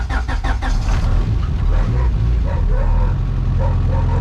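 A turbocharged H2B truck engine with a coil-on-plug conversion cranks in rapid pulses on a cold E85 start, then catches into a rough, loud idle with a dog barking nearby.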